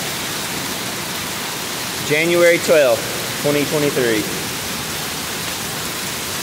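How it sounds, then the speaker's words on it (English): Hail pours down in a January storm, piling up on the ground like snow, a dense steady hiss of falling ice throughout while a person speaks briefly over it. "Lots of hail coming down."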